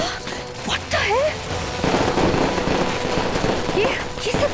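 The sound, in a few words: fireworks exploding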